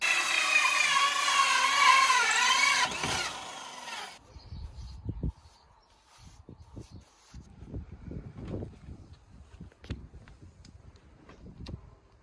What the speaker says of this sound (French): je vais venir avec la scie cloche percer du coup au milieu